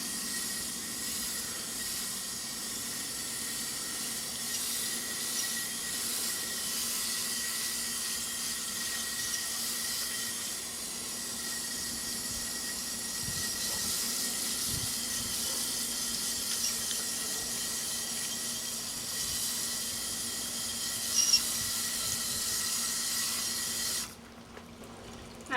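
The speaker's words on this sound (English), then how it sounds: "Now we're rinsing off our cast." Tap water runs steadily over a footwear impression cast as dirt is rinsed away, a soft continuous hiss and trickle with no talk, ending in a brief splash before cutting off.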